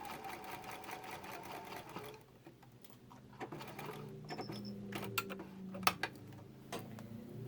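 A sewing machine stitches a seam in striped fabric, fast rhythmic mechanical whirring that stops midway, followed by quieter clicks and handling noises close by.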